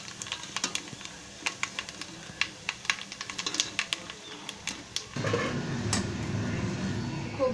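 Roasted coconut scraped out of a cooking pan for a Satari chicken masala: quick, light clinks and taps of a utensil against metal, followed by a steady, broad hiss.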